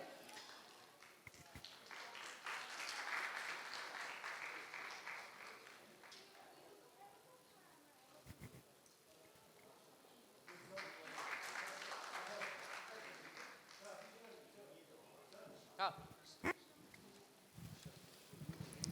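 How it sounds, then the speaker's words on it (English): An audience at a surveillance conference applauds award winners, clapping that swells in two waves with a lull between, faint and somewhat distant, with a voice speaking over parts of it. "a huge round of applause"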